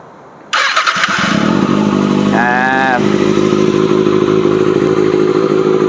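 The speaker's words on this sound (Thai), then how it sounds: "มาฟังเสียงเครื่องยนต์" A 2018 Kawasaki ZX-6R motorcycle engine kicks on after a brief quiet moment and keeps running loudly and steadily, with a short burst of higher mechanical whine partway through.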